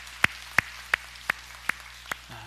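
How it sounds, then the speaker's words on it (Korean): A church congregation claps together in slow, even unison, six sharp claps spaced about a third of a second apart, clear against a quiet hall. "우리 하나님께 영광의 박수 올리겠습니다"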